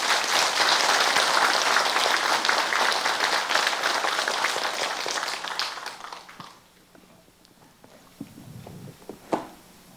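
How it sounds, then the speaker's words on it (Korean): Audience applause at a Buddhist temple book launch ceremony in Busan, starting loud and sustained with many hands clapping, then fading into scattered claps and quiet room noise. "격려의 박수 한번 부탁드리겠습니다"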